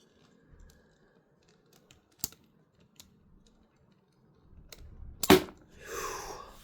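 A Transformers Energon Starscream toy's spring switch is pressed to fire its missile, giving a sharp, close plastic snap, followed by a short rattling clatter as the missile lands, with faint clicks of handling before it.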